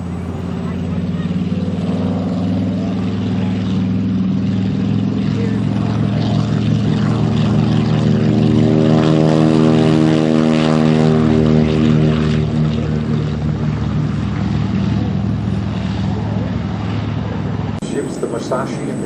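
An RC model aircraft at an airshow builds up a loud droning engine roar with rising tonal harmonics as it lifts off, while a person talks over it in an open outdoor setting.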